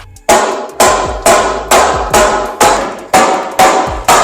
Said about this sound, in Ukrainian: візьмемо резиновий молоток